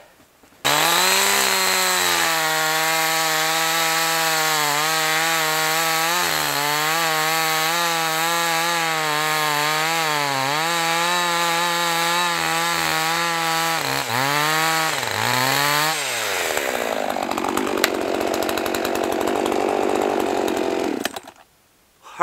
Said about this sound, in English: I'm just cutting straight down through the ice right now.